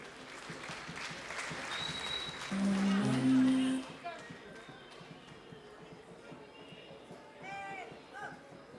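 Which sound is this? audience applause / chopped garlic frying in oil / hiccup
audience applause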